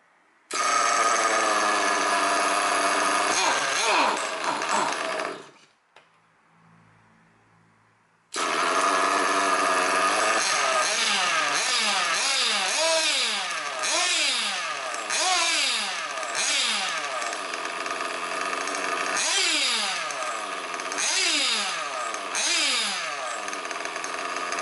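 A small high-revving nitro RC car engine screams loudly, cuts out briefly, then roars back to life with repeated throttle blips rising and falling.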